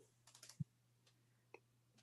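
Typing on a computer keyboard fitted with blank keycaps: a few scattered, quiet key clicks at an uneven pace, one louder thump among them, with a steady low hum underneath.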